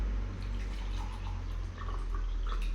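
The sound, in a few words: hot water being poured into a cup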